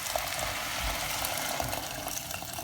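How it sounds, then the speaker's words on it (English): Water poured onto cooked green mung lentils in a pot for Gujarati moong dal, a steady close splashing and trickling wash that runs unbroken for a few seconds without any voices. "Put a little bit of water"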